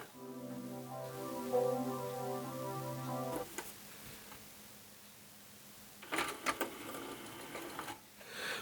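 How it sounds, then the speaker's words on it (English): Technics SL-P200 CD player mechanism running with a disc, a rapid, even mechanical buzzing and ticking for a few seconds, then near quiet with faint clicks and rattles, heard close up. "the mechanism sounds like a bag of nails"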